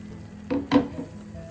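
Cooked brown chickpeas stirred into a pot of kootu curry with yam and plantain, heard as two quick, close scraping and clinking strokes of a spoon against the pot over a faint background hum.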